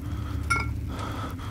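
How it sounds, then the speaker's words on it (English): A glass jar is picked up in Amnesia: The Dark Descent, giving a single brief, light clink over a low, droning background. "Ah, the glass jar I was looking for."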